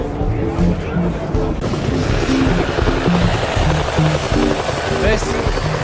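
Helicopter rotor and engine noise during a flight with a camera gimbal being tested, a steady loud drone with rhythmic low thumping, talking heard over it.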